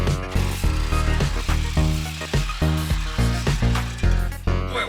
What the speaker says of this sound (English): Grab the Sawzall for me.